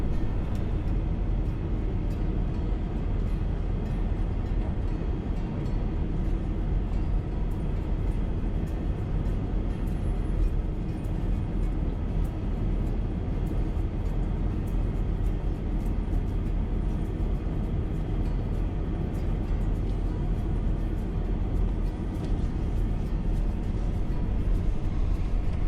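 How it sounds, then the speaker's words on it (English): A van rolling slowly through a campground gate on open desert plain, heard as a steady, dense engine and road rumble that stays even and unbroken for the whole stretch. "I had to sit comfortably in the van and drive it through the gate"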